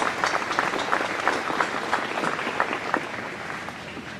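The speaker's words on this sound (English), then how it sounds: "Let's give Ivy a round of applause." An audience at a 2021 commencement ceremony applauds, with steady, dense clapping from many hands filling the whole stretch at a moderate level and no speech over it.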